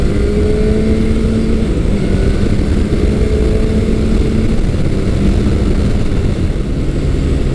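A Yamaha FZ1 second-generation sport-standard motorcycle ridden at a steady, moderate pace, its engine droning continuously amid heavy wind rush, loud and close throughout with no revving to redline.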